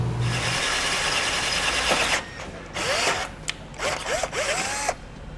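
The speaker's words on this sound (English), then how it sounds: "enlarge that hole, stepping it up with drill bits" A drill with stepped bits grinds and rasps through metal while enlarging a hole in a 2018 Chevrolet Sonic's front end for a Blue Ox base plate, running steadily then in short bursts with squealing bites as the bit catches.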